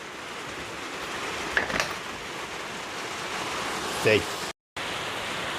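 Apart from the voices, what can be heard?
heavy rain falling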